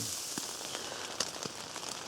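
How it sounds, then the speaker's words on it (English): Freezing rain falls steadily outdoors after sleet and snow, a soft continuous hiss scattered with small crisp ticks and taps of icy drops striking nearby surfaces. "The sleet and snow has transitioned over to freezing rain now, and it's definitely coming down pretty good."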